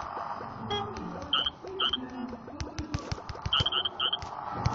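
Frog character sounds in the Crossy Road video game come as short, repeated croaks and high electronic chirps in a bouncy rhythm, set against game music and tapping.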